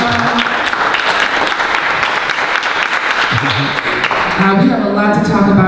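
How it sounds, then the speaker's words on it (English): Audience applause for Chair Johnson at a public commission meeting in a museum, steady clapping from a room of people that carries through the whole stretch, with a voice coming in near the end. "can we please give Chair Johnson a applause?"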